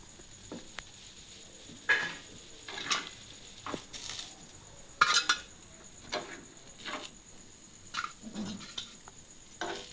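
Carrot gunta ponganalu are lifted out of a cast paniyaram pan, giving a series of sharp metallic clinks and scrapes spaced irregularly across the stretch, fairly quiet with no talk.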